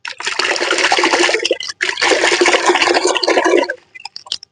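A water mixture poured onto the base of a mango tree, a loud continuous gush with a brief break partway through, then a few trailing drips.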